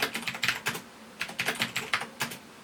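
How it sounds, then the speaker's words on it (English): Mechanical keys on a Trust 486 PC keyboard clack in quick irregular bursts, several keystrokes clustered then short pauses, close and crisp with no voices. "As you can hear, this is a mechanical keyboard."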